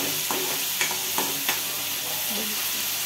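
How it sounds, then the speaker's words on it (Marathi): Garlic and dried-coconut paste sautéing in oil over a gas flame: a steady close sizzle broken by a few sharp spatula scrapes against the pan. "लसणाच्या वाटणामध्ये सुकं खोबऱ्याचं वाटण चांगलं परतून घेतलं जातं गॅसवरती तेलामध्ये"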